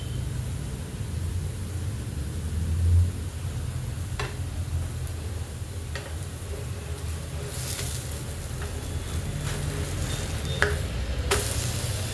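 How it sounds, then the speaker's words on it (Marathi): Bottle gourd thalipeeth fries crisp in a pan, a steady close sizzle with occasional light taps and stirring clicks from a utensil, and no talking. "छान भाजले गेलं आहे आपलं थालीपीठ"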